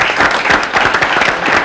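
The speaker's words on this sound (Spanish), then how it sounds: "lo menos que merece un aplauso a ustedes" Applause fills the room for Puerto Rico's 1979 national basketball team, with dense, steady clapping from a crowd that is loud and close throughout, and no one speaking over it.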